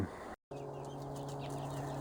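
Hens cluck and chatter around the feed at a self-sufficient homestead in the morning, a busy flock close by with a steady hum in the background and a short dropout near the start.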